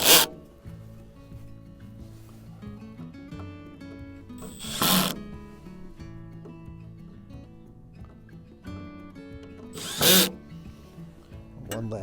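Power drill driving a screw tight on a DIY mailbox: three short, loud whirring bursts roughly five seconds apart, with a low steady background hum in between.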